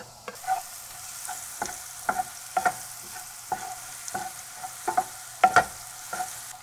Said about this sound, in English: we are going to use the same oil for our garlic.